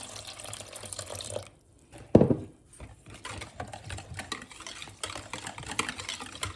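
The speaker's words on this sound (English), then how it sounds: "I'm going to start adding water." Water poured into a lassi mix and stirred, with a brief splash and sloshing burst midway through otherwise quiet kitchen background.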